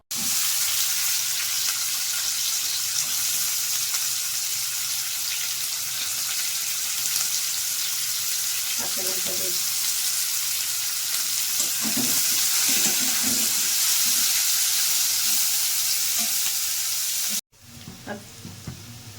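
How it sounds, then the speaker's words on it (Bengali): Small kachki fish frying in a pan for a Bengali jhal chorchori, a steady close hiss of sizzling oil with occasional stirring clinks, cutting off abruptly near the end. "কাচকি মাছটাকে ভালো করে ভেজে নিচ্ছি।"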